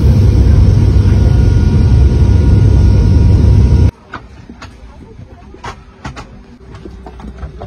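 A loud, steady airplane engine roar fills the cabin during landing, then cuts off abruptly to a quieter interior with scattered clicks and rustling.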